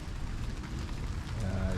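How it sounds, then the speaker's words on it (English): Water drops patter from trees during misty rain after a tropical storm in Houston, a dense soft spatter of dripping close by, steady and continuous throughout. "you can hear and see drops of water"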